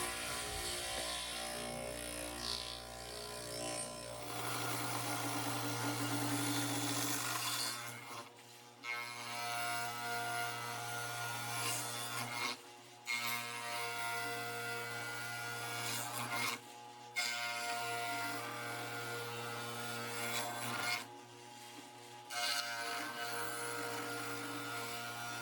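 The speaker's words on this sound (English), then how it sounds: "how I do planing on my radial arm saw" A radial arm saw planes a rough sawn live edge slab, giving a loud, sustained whirring rasp with a steady hum; the cutting noise drops out briefly several times between passes, and no one speaks.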